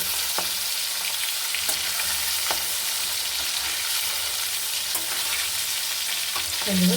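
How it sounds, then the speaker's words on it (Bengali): Boal fish pieces lightly frying in hot oil in a pan, a steady close sizzle running throughout, broken by a few sharp clicks and a brief louder crackle near the end. "দেখুন মাছটা আমার ভাজা হয়ে গেছে আমি বেশি ভাজবো না হালকা ভেজে নিতে হবে"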